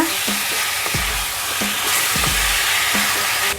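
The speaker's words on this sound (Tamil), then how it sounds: "சிக்கனை சேர்த்துட்டு ஒரு வாட்டி மிக்ஸ் பண்ணிக்கோங்க" Chicken frying in a pan for a spicy pepper gravy, with a steady close sizzle and repeated scraping knocks of a spoon as it is mixed in with sautéed tomato.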